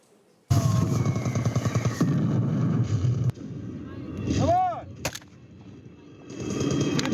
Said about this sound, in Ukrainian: Звуки вибухів, свист куль над головою